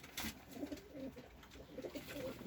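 Pigeons coo softly in a loft where sick and young birds are kept, a few low rolling calls close by over a quiet background.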